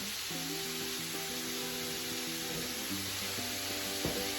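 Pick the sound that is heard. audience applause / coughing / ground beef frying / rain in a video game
ground beef frying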